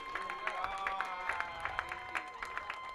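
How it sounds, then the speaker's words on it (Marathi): A crowd at a cricket league prize ceremony claps for the Indian cricket team, with crisp individual claps in an uneven rhythm, some close and sharp, over a murmur of crowd noise. "एकदा भारतीय क्रिकेट संघासाठी आपण उभे राहून जोरदार टाळ्या वाजवूया।"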